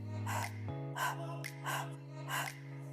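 Slow, controlled breaths during a relaxing Pilates session with a small ball, several airy exhales and inhales in a steady rhythm over a sustained low musical tone.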